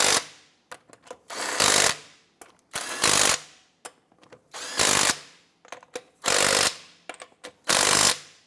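An impact wrench or power ratchet drives wheel lug nuts on a 2015-2020 Cadillac Escalade, giving five loud, close bursts of rattling hammering, each about half a second long, separated by shorter clicks and clanks.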